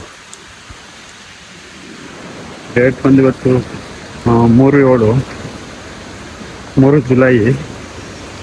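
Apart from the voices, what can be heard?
Irpu waterfall flowing in heavy rain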